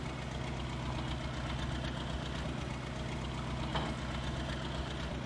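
A tractor engine in Farming Simulator 22 idles at a steady, low, throbbing drone with a faint knocking rhythm, heard alone without speech.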